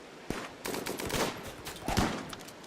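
Bursts of gunfire in the colony game RimWorld, a few sharp shots and rattling volleys close together, moderately loud with no talk.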